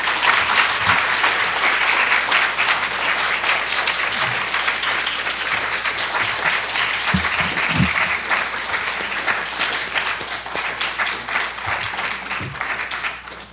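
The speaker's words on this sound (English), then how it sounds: "So let's continue the applause." A lecture audience applauds steadily and loudly after a university talk, a dense, sustained wash of many hands clapping that fades slightly toward the end, with no voices over it.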